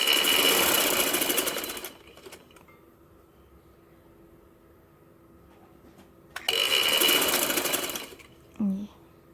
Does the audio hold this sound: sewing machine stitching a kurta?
yes